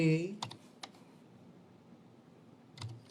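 Several sparse clicks of keys on a computer keyboard tap out a command, with a brief trailing voice fragment at the start and a short cluster of keystrokes near the end, close and fairly quiet.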